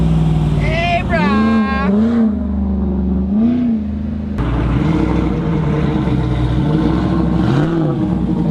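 A Ram 1500 pickup truck's exhaust rumbles loudly up close, with a rising rev and throaty swells while it drives through traffic. Some voices can be heard over the engine.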